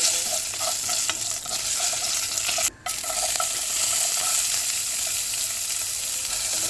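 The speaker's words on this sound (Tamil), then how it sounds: "எல்லாம் போட்டு வதக்கிக்கலாம்." Loud, steady sizzling of cumin and lentils frying in hot oil, close up, with a brief pause partway through before the sizzle resumes.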